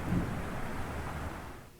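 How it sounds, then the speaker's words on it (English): A thunder clap in the video game The Letter comes as a brief, faint low rumble that fades out within a couple of seconds. "a clap of thunder ripples across the sky"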